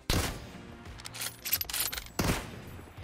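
Gunfire in PUBG Mobile during a solo-versus-squad match: loud sharp bursts open and close the stretch, with scattered rapid shots between them and no talk.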